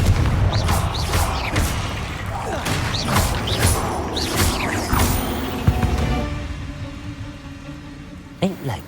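Confringo fire-blast spell in the Hogwarts Legacy video game, a sudden burst with a sharp impact crack amid whooshing combat effects, a voice casting spells over the clash.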